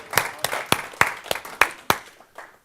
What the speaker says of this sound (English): Give Michael a round of applause